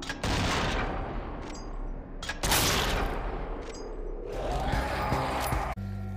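Gunfire in the zombie shooter game Zombie Army 4 comes as a few loud, close bursts of shots with booming impacts and crashing debris, followed by a lingering low rumble.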